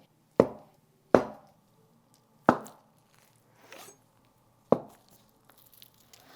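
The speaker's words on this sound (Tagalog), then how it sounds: "So, hiwain muna natin yung tofu." Knife chopping through tofu on a cutting board for a street-food snack, five sharp distinct thuds spaced unevenly, close and clean with quiet pauses between.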